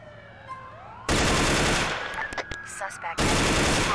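Automatic rifle gunfire in GTA IV, a loud sustained burst of rapid shots lasting about two seconds, then a second burst at the end, with a siren-like tone and game effects in the background.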